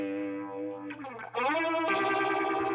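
A guitar sounding through a phaser effect pedal on its classic setting with a shallow sweep, sustained tones sliding and swirling in pitch, loud and close with no talk.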